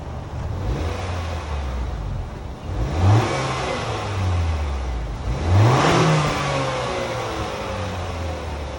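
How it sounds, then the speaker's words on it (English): A 2021 Acura TLX A-Spec with a 2-liter turbo engine revs twice, each rise and fall close and loud over a steady idle, with no talking. "that was of course the sound of the new 2-liter engine offered by ACURA for this particular A-Spec TLX"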